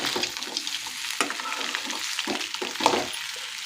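Okra (bhindi) frying in a generous amount of oil, stirred from bottom to top, giving a steady close sizzle broken by scraping and turning sounds, with no talking.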